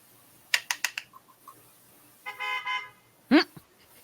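A car horn sounds in a sustained, buzzy blast and then a shorter honk, both close and loud, after a quick series of light clicking taps.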